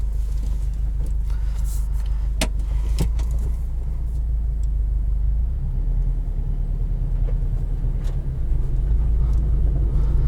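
A 2020 Subaru WRX STI creeps gently over rocks, its engine a low steady rumble inside the cabin with a few sharp knocks and rattles as the car rolls across the stones.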